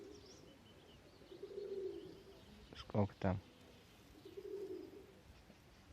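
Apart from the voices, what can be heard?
pigeons cooing, Mordovian and Perm breeds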